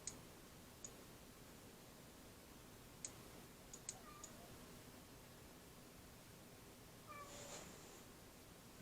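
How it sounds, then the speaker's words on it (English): A faint, brief cat meow near the end of a quiet stretch, with a few soft clicks scattered earlier. "There's a kitty."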